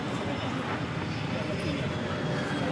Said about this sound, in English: Another Frontier flight coming in here. This one from Salt Lake City.